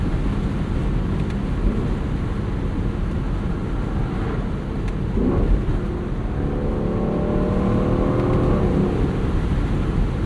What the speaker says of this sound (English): I can share the noises of this car with you guys without having a ton of wind buffeting